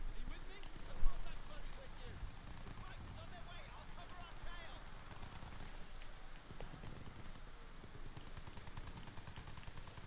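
Video game gunfire rattles in dense, continuous bursts while someone talks over it, the shots close and sustained with one louder crack near the start.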